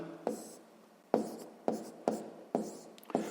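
A pen writing out a maths calculation for a sixth-grade exercise, heard as five or six scratchy strokes with short gaps between them, close up and quiet, with no talk.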